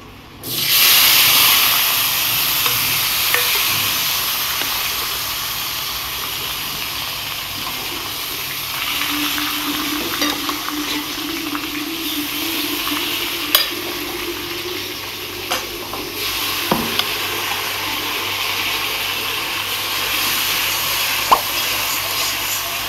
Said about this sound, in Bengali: এখানে গোটা শুকনো লঙ্কা চিড়ে দিয়ে দিলাম, আর সামান্য এখানে গোটা জিরে ফোড়ন দিয়ে দিলাম